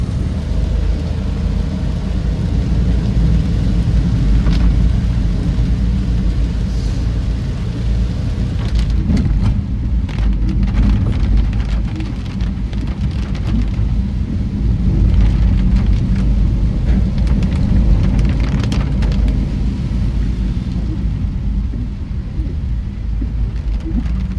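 Heavy monsoon rain drums steadily on a car driving the new road from Mumbai to Alibag, a loud, dense wash over a low road rumble that holds throughout with no talking.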